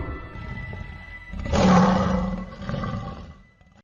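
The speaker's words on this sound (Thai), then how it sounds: "เป็นป่ามืดน่ากลัวมีบางอย่าง เสียงคำราม" A deep, rumbling roar swells up out of a dark ambient drone in a dark forest in the video game Children of Silentown, peaks, then fades with a lower growling tail.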